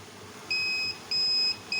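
Overload alarm on a UPS inverter panel with a 2000 W transformer, sounding three short, loud, high electronic beeps in an even rhythm over a low background hum.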